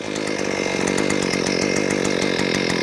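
A gas-powered one-man post hole auger engine runs steadily at close range, a loud, continuous two-stroke drone with a rapid pulsing beat and no pauses.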